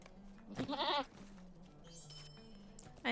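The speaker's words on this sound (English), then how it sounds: "I love my goat." A pet goat named Tulips bleats once, close and loud, in a wavering, quavering call, followed by quieter room sounds and a brief rise at the end.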